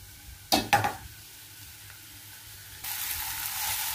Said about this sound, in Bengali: পেঁয়াজটা একটু ভাজা ভাজা হয়ে গেলে টমেটো কুচিগুলি দিয়ে দেবো, দিয়ে লতি ম্যারিনেট করা লতি দিয়ে দেবো।